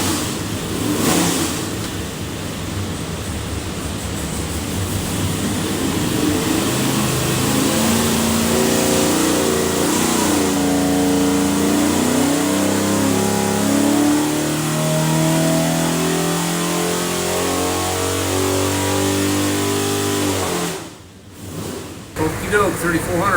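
A 489ci Big Block Chevy airboat engine revs loudly on a test stand, climbing and falling in pitch through repeated throttle sweeps. It then cuts off abruptly near the end.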